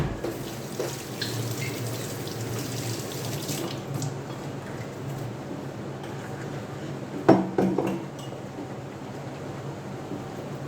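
Warm tap water runs steadily into a container for a chicken drinking-water mixture with vinegar and honey, a continuous close rushing stream with a brief clatter near the end.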